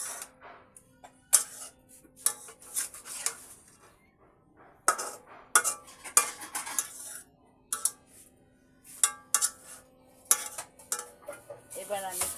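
A utensil scrapes and clinks against a cooking pan as onion paste is stirred for a hilsa fish curry with ridge gourd, in short irregular bursts of clatter separated by quiet pauses.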